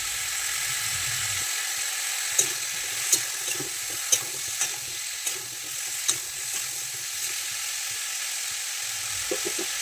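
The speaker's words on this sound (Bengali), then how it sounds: "এইভাবে সবজিটা আমি কিছুক্ষণ খুন্তি দিয়ে নাড়াচাড়া করব।" Vegetables with cumin powder, salt and spices sizzle steadily in a pan while a spatula stirs them, with sharp scraping clicks at irregular intervals over the constant frying hiss.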